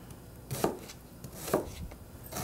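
Knife chopping an onion into big chunks on a cutting board, two sharp distinct chops spaced about a second apart, close and clear over a quiet room.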